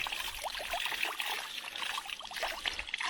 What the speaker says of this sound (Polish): Przepłuczymy je wodą.